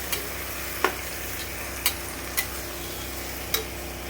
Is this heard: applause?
no